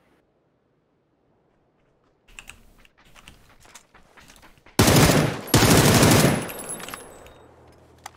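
MG42 machine gun fire in the video game PUBG: two loud, sustained bursts of rapid automatic fire follow a stretch of clicky keyboard typing, with a brief spoken word.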